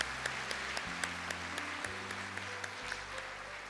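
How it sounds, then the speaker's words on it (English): Applause from a ceremony audience for Dr. Mahathir at a United Nations public service awards event sounds fairly soft and distant, with scattered claps over a low, steady hum. "Ladies and gentlemen, would you give another round of applause for Dr."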